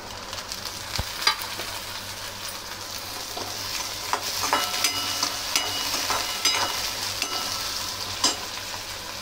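Chopped onion and tomato fry in a pan, giving a steady, moderately quiet sizzle with a few soft stirring clicks and scrapes throughout, and no voices.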